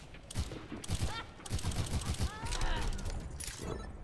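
Rapid bursts of weapon fire in Overwatch, a quick string of sharp shots over about four seconds, close and punchy, mixed with game effects and some background voice.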